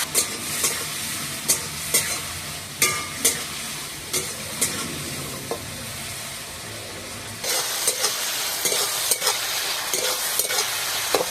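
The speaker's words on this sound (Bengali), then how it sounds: "চিংড়ি মাছটা ভাজা হয়ে গেছে, এবার তুলে নেব।" Prawns frying in hot oil seasoned with turmeric and salt, a continuous close sizzle broken by regular spatula scrapes and taps, getting denser and louder toward the end.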